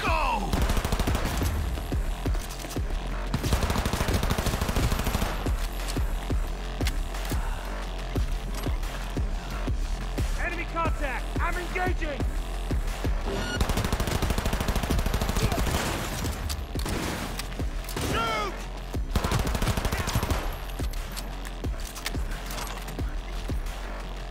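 Gunfire in the video game Cyberpunk 2077, dense rapid bursts of automatic shots with heavy low booms that continue loud and close throughout, with a voice talking over parts of it.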